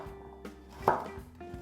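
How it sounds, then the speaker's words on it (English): A knife slicing a carrot diagonally on a board, a few quiet, close cuts with one sharper chop near the middle. "I'm gonna cut it into half, and I'm gonna cut it diagonally as well"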